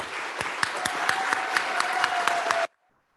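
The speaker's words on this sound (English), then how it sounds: "For those of you who don't know why we just clapped for this one person" A church congregation applauds a member at a Sunday service, a dense steady wash of clapping with sharp individual claps throughout, close and loud, stopping abruptly at the end.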